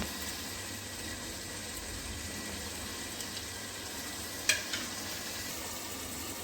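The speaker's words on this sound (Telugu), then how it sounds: "నీళ్ళు అయితే బాగా మరుగుతున్నాయి" A pot of water at a rolling boil for egg biryani, making a steady, even bubbling hiss close by, broken once by a brief metallic clink.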